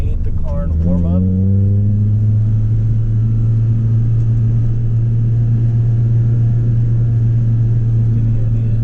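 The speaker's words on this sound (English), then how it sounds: "I can talk while the car is revving up to at least 2 or 3 grand" Toyota Celica engine at a steady warm-up idle after a brief rev, a loud low hum that drones on evenly for several seconds.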